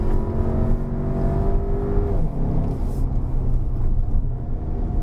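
A 2020 Volkswagen Arteon with 190 PS climbs the Genting hill, its engine revving with a rising tone that drops at a gear change, then pulls on steadily in a loud, continuous drone.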